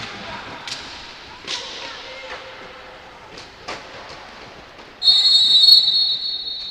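A referee's sharp whistle blast sounds loudly near the end during a women's Serie A roller hockey match, after a stretch of quieter arena noise with scattered knocks of sticks and ball.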